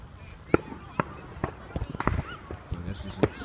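Fireworks bursting in a local park in 2014, a string of sharp, irregular cracks and pops at moderate distance, with voices talking between the bangs.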